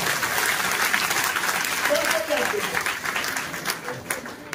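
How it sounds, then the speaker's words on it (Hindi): Hotel meeting audience breaks into loud, sustained applause, a dense roar of many clapping hands with a brief voice audible partway through, tapering slightly toward the end. "एक जोरदार ताली, सही रास्ते पे।"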